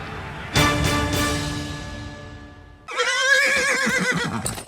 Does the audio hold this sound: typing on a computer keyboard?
no